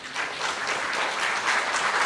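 Audience applause fills the hall at a live Indian government beneficiary event, steady dense clapping throughout, loud and continuous with no voices on top.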